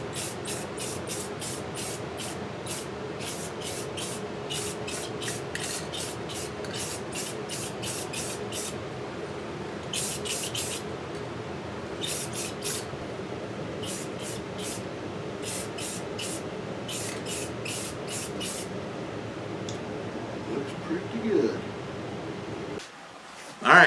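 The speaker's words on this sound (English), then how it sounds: "we're going to go ahead and put the first coat of silver on" Aerosol spray paint hissing steadily as a first coat of silver goes onto a Mandalorian holdout blaster, with a continuous close hiss broken into short repeated bursts near the end.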